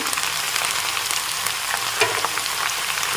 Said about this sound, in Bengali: ভালো করে নেড়ে চেড়ে একটু ভেজে নিতে হবে